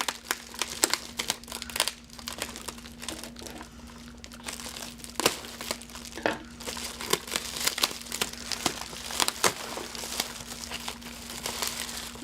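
Continuous close crinkling and crackling of packaging material as a cardboard box of skincare products is opened, with scattered sharp rustles and tearing sounds, over a faint steady hum; no talking.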